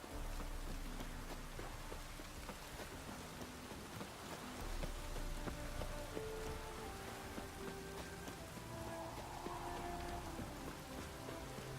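Rain falling in the video game The Witcher 3, a steady soft patter and hiss of drops on surfaces, quiet and continuous, with faint tonal game music and no talk.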